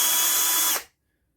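A Parkside 12V PBSA 12 D4 cordless drill runs at its low first speed, a loud, steady close-up whir lasting under a second before it abruptly cuts off into silence.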